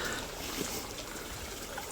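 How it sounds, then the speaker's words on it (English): Soft, steady rush of running water, like a small stream flowing nearby, continuous and fairly quiet with no voices. "You can hear the water running there."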